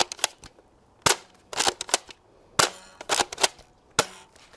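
Adventure Force and Dart Zone foam dart blasters firing without barrels: sharp, close, loud pops in quick pairs and singles, about ten shots spaced irregularly over a few seconds.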